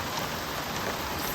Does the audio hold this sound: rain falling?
yes